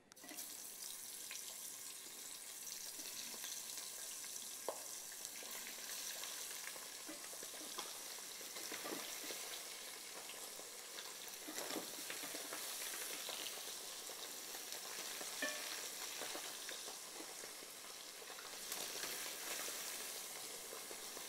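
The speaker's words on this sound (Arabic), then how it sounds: "نروحو نبداو نقلو في الدجاج تاعي" Chicken frying in a pan, giving a steady, fairly faint sizzle with watery, tap-like hiss throughout and occasional soft clinks and scrapes, with no voices.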